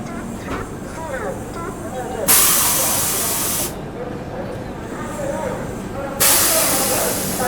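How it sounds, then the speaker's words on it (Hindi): Howrah Rajdhani Express train pulling into Asansol Junction, with loud broadband hissing bursts like air brakes or passing coaches swelling and fading over a steady rumble, with a voice speaking over it. "चलिए, अपनी हावड़ा राजधानी आसनसोल जंक्शन अराइव कर रही है।"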